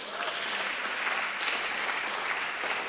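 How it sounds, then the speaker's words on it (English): An audience at a women political leaders summit gives panelists steady, dense applause. The clapping is close and continuous for the whole few seconds. "please a round of applause for them."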